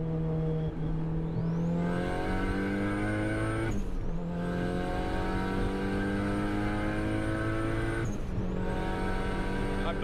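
A 1998 Honda Civic VTEC turbo pulls hard in third gear from 100 to 200 km/h, its engine note climbing steadily with two sharp gearshift breaks and a turbo whine, loud and close with no talk over it.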